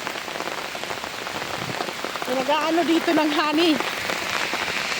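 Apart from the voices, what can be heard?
heavy rain falling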